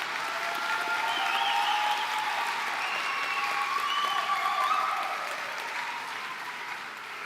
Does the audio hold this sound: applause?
yes